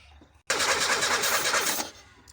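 A car engine with a white-smoke problem, suspected piston rings or head gasket, cranks and bursts into a loud, steady rev for over a second before dropping away, with no voices.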